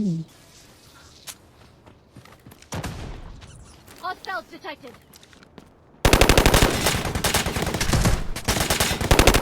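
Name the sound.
gunfire in Delta Force mobile video game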